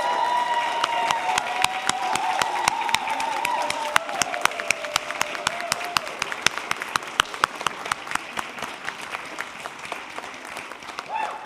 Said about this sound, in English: please stand and let us give you a loud round of applause